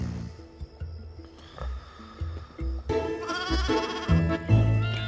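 A sheep that has fallen into a hole bleats loudly again and again, the wavering cries rising over rumbling and clattering noise in the background.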